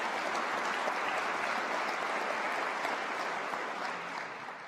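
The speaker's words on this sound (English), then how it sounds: "That's worth a big round of applause." A big round of applause fills a Cal Poly convocation hall, a steady, dense wash of many hands clapping at moderate distance that holds evenly and begins to fade at the end.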